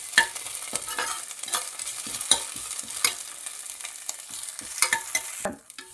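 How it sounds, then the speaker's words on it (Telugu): Curry leaves frying in oil in a pan, a soft steady sizzle under repeated scraping stirs that come in irregular strokes, then fade at the end. "ఇప్పుడు కరివేపాకు బాగానే వేగిందండి."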